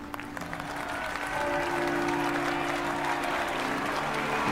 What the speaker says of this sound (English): He sees everyone applauding him, cheering for him.